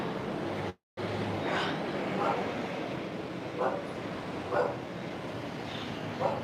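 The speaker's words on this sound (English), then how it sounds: "the dog is barking here, but the dog doesn't sound too ferocious" A dog barks in the old Jaffa quarter of Tel Aviv, a few short, moderate barks spaced about a second apart, some distance away under steady street ambience.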